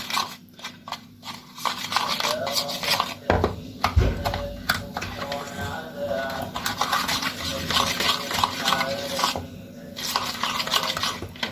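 Chicken pieces being turned in a marinade in a bowl make soft, repeated wet scraping and clinking stirring sounds, close, with occasional knocks against the dish.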